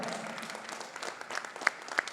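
An audience at a boxing fight night claps after a bout, a brief patter of applause with a few sharper claps standing out near the end, moderately distant.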